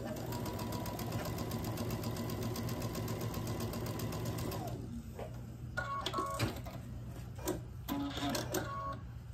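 A sewing machine stitches rows of a quilt block together, running in a fast continuous whirring hum for several seconds, then stopping and giving way to irregular clicks, knocks and fabric handling nearby.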